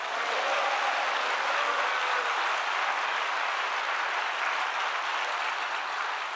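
A church congregation applauds at a Saturday joint prayer meeting. The clapping is dense and sustained and holds at an even level throughout, with no voices standing out.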